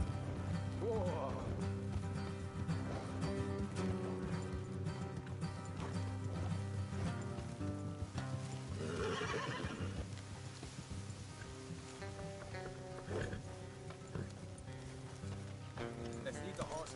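Horses in the video game Red Dead Redemption 2 trot along a road with steady clip-clop hoofbeats and an occasional whinny, mixed with game ambience and rain-like patter while characters talk over it.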